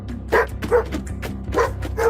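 A dog barks in four sharp, evenly spaced bursts, close and loud, over a low steady rumble.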